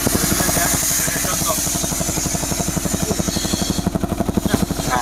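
Car engine misfiring at idle, a loud uneven pulsing putter from the exhaust close by, like a duck's quack, steady throughout with no talk.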